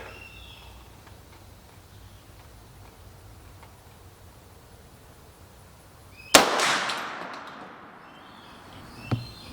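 A Big Horn Armory AR 500 rifle fires one loud, close gunshot after a quiet stretch. The blast rings out and echoes as it fades, and a fainter click or knock follows a few seconds later.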